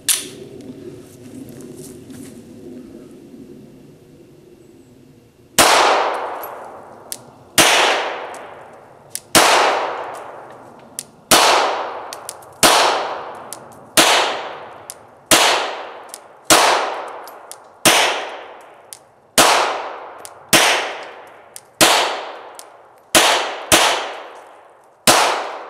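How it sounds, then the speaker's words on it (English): A Glock pistol with a 33-round magazine fires 115 grain ball ammo at rubber dummy targets: about fifteen sharp, ringing shots with clanging tails, spaced roughly a second apart, loud and nearby, with no talking. "Let's start with a pistol, and you had to know that I wasn't going to start with anything less than a 33 round standard capacity Glock magazine."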